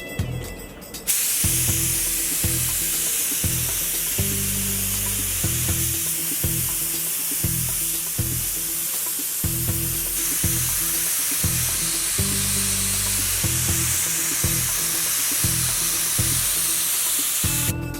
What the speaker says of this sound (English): This is one of the last two pieces I need to spray for the pull tractor.